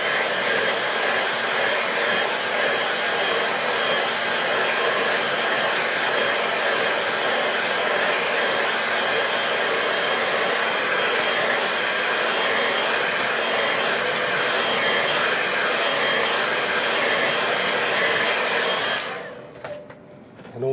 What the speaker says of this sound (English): I'll just give that a quick dry.